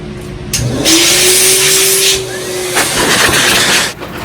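A pet grooming dryer blasts air through a Samoyed's thick coat, a loud steady rushing roar with a thin motor whine that swells in near the start and holds strong before easing off toward the end.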